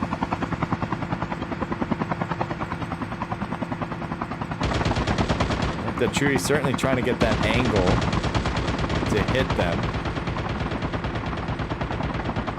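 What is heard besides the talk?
helicopter and gunfire from the video game Call of Duty: Mobile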